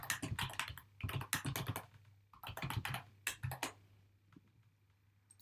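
Typing on a computer keyboard during setup of a text-to-speech tutorial, heard as close, clattering bursts of keystrokes with short pauses between runs, fading to a few scattered taps at the end.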